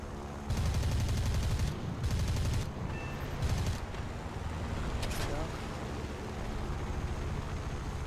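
Aircraft machine guns fire in long bursts while strafing a PBY Catalina flying boat in a combat flight video game, several loud rattling volleys over a steady engine drone.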